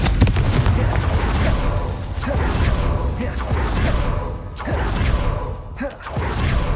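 Repeated Confringo blasting spell explosions in Hogwarts Legacy, a series of booming impacts and whooshes every second or so over a dense, loud rumbling game soundscape.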